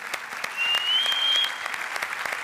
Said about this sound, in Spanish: por favor, un fuerte aplauso a Alberto Toribio